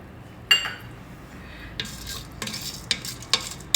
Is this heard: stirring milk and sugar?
yes